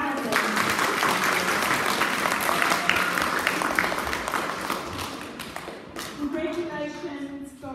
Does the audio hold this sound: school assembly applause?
yes